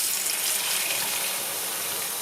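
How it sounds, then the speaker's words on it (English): Hot soapy water running from a tap into a small bowl, a loud, steady gushing hiss that continues unbroken throughout. "what I'm going to do is fill this little bowl with some hot soapy water."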